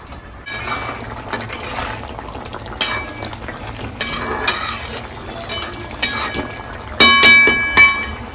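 Bombil, Bombay duck fish, frying in a small amount of oil in a home kitchen, with a steady close sizzle broken by sharp clinks and scrapes of a utensil against the pan.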